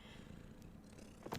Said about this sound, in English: You guys can probably hear her purring